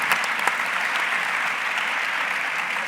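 An audience at a talk gives a steady round of applause, many hands clapping in a dense, even wash with a couple of sharper claps near the start.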